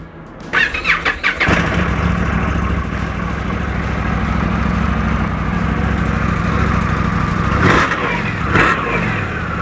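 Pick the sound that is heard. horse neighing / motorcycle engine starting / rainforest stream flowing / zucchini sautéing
motorcycle engine starting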